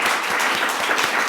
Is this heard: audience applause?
yes